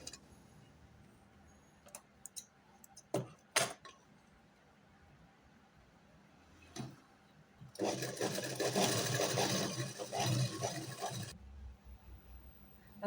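A sewing machine stitches half-inch tucks on a blouse in a steady, close, loud whirring run of about four seconds, with scattered light ticks and clicks before it.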